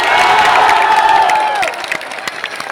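An audience at a poetry recitation event in Mahoba bursts into loud cheering and applause. Clapping, shouts and whoops swell together and stay close and intense throughout.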